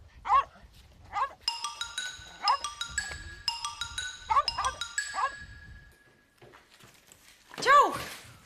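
A dog barks in short bursts at a rural home while a man calls out nearby, with metallic jingling and clinking sounds in between and a final louder bark near the end.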